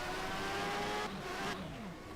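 Formula 1 race car in a video game at the British Grand Prix, its engine holding a loud, steady high-pitched whine that drops in pitch as it runs on, with no voices.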